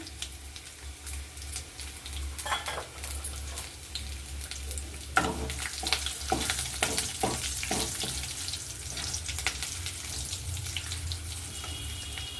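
Fresh curry leaves, bay leaf, cinnamon, cloves and a spice bud hit hot oil with a loud, close, crackling sizzle that flares with sharp spits and pops partway through, then settles into a steady hiss.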